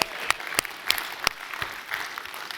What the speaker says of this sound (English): Everyone needs to like applaud Wally